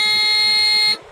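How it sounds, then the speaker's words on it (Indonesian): A Caterpillar D8R bulldozer's startup alarm buzzer sounds when the key is switched on during an instrument panel check. The tone is loud, steady and harsh for about a second, then cuts off abruptly, leaving quiet background noise. "bunyi alarm seperti begitu"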